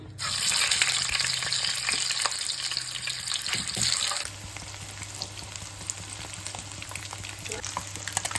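Eggs fry in hot oil in a pan with turmeric, giving a loud, continuous crackling sizzle close by, with a brief lull and shift partway through and a steady hum underneath.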